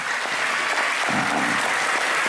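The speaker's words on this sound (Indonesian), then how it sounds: "Tepuk tangan buat Abah Sulaiman." Applause from the congregation at an Islamic sermon gathering (pengajian), a dense, steady wash of many hands clapping at once that holds evenly for about two seconds with no voices over it.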